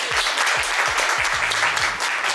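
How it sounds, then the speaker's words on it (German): Loud, steady applause from an audience at a Chogan team event fills the whole stretch, with low voices faintly audible underneath the dense clapping. "Ja, Applaus für unsere Teamleader"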